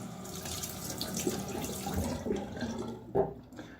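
Tap water runs into a sink while a shaving brush is rinsed, a steady close splashing stream with small shifts in flow and a brief louder splash near the end.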